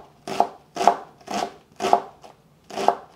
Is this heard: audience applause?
no